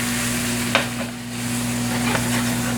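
Flour stirred into hot bacon and pork fat to make a roux, a steady sizzle in the pan with a couple of soft stirring scrapes.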